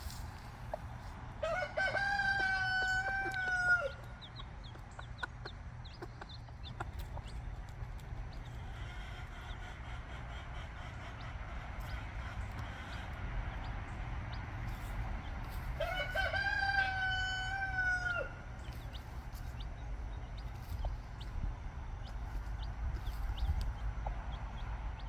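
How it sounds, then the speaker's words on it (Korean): A mother hen raising her two chicks, with a rooster crowing loudly twice amid outdoor fowl sounds and soft clucking over a steady low rumble of background noise. "그로부터 약 한 달 동안 어미닭은 병아리를 데리고 다니면서 키웁니다."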